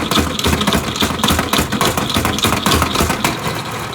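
A salad spinner whirls freshly washed dill, giving a steady, loud, continuous whirring rumble with a fast rhythmic pulsing that runs the whole stretch without voices.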